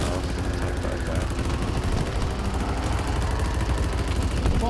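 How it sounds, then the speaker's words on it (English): Rapid automatic gunfire in a multiplayer shooter game, a continuous rattling burst of enemy fire running steadily through the whole stretch at moderate level, fairly close. "Oh my god, now he's shooting at us."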